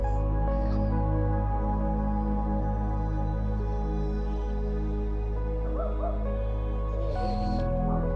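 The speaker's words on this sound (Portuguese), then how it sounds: "um cachorrinho ali querendo vir com a gente" A small dog barks and whimpers in short, faint yips from the shore of a lake at Sils in Switzerland, under the steady low hum of a small 40-year-old boat's motor.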